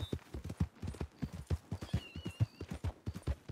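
Horse hooves galloping in Red Dead Redemption 2, a steady rapid clip-clop rhythm, close and clear, with a brief whinny partway through.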